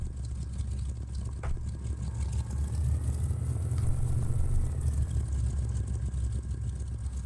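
A Dorand AR1 biplane engine revs in the MSFS flight simulator, giving a steady, loud, low droning roar that swells slightly in the middle and stays alone without talk.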